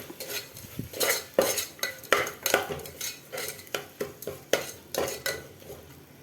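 Spices being stirred into chicken biryani in a pressure cooker: a steady series of scraping, clinking spoon strokes against the metal pot, close and fairly loud, with no talking.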